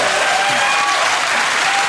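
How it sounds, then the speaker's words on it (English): Studio audience at a comedy panel show applauds loudly and steadily, a thick continuous wash of clapping with no pauses. "A round of applause for the duration of your waffle."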